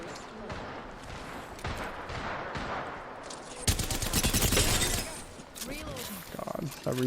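Rapid automatic gunfire bursts from the Apex Legends video game crackle in loud clusters, densest midway, with shots and game effects layered under a player's voice talking over the action.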